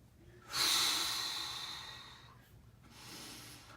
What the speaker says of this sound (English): And you take a breath in